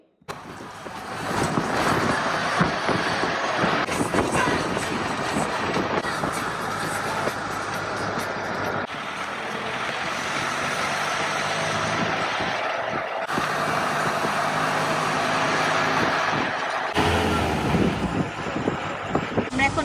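A car grinds over a muddy, landslide-damaged mountain road between Gorkhey and Siliguri, with a steady, loud rumble of engine and road noise throughout.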